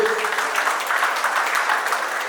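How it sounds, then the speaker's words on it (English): Steady applause from an audience at a BNI business networking event, dense and even clapping sustained throughout without a break. "So let's give a big round of applause to Nikhilesh."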